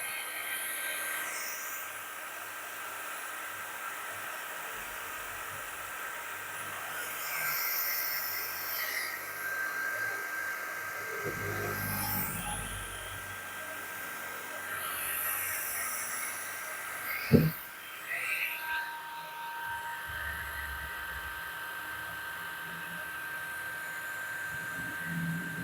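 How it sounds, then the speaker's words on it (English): A heat gun runs with a steady, quiet, breathy hiss that holds throughout, broken once by a brief knock. "Let's do some trying to heat up the gun."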